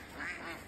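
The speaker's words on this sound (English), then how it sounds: "You can see all the ducks are chilling out, having a bit of a swim." Ducks swimming on a woodland lake let out a short, nasal quack, fairly faint and a little distant, standing alone without any talking.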